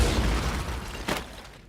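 A cannon firing as a sound effect in a small business loan commercial: a short booming blast with a brief second burst, loud and quickly fading, with no talking.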